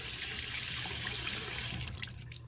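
Tap water runs steadily into a sink, a continuous hiss that thins toward the end as the flow eases, with no voices over it.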